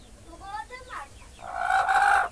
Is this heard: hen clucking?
yes